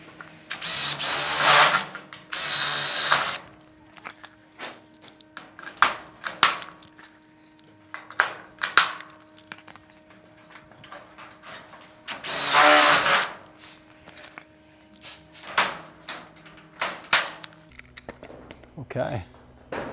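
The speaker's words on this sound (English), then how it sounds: "And a couple more rivets at the end here." Power riveting on metal barge capping flashing over KLIP LOK roofing, with several loud bursts of the rivet tool firing in quick succession between quieter pauses, and a person talking in between.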